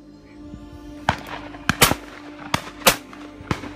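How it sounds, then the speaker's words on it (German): Several sharp shotgun blasts at flushed ducks ring out at irregular intervals along a riverbank in central Hesse, some loud and close, others fainter, over a quiet outdoor background. "Unzählige Schüsse fallen"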